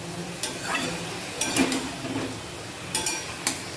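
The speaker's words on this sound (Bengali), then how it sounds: "দিয়ে ভালো করে কষিয়ে নিব" Close stirring and scraping of fig (dumur) fry with green chilli, garlic paste, turmeric and salt in a pan over a soft, steady sizzle of frying oil, with a few sharp metallic clinks; no voices.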